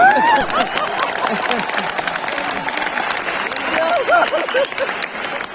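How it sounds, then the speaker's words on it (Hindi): Audience applause at a live comedy show in Delhi, a steady wash of clapping that runs the whole time beneath a voice talking over it. "ये 4-5 लोग ताली बजा रहे हो"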